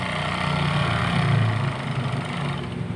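A Siruba overlock sewing machine runs continuously with a steady mechanical whir and buzz, swelling slightly mid-way, heard up close with no talking.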